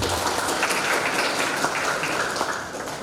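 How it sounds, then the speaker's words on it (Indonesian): Sustained applause from a graduation ceremony audience honouring the lecturers, a dense steady wash of clapping at even loudness that thins slightly toward the end. "Tepuk tangan untuk semua dosen."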